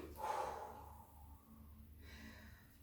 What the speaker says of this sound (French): On inspire.